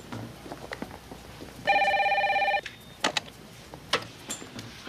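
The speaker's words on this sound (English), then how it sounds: "Try to get Worthington on the phone." A telephone rings once in a sustained electronic burst of about a second against a quiet room background, in a 1992 thriller scene about calling a kidnapper.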